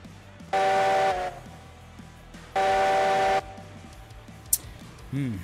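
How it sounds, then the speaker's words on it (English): Steam train whistle in the video game Railroads Online: two loud sustained blasts, each about a second long, separated by a pause, with a faint hiss and rumble beneath. "That lag and the whistle sound there."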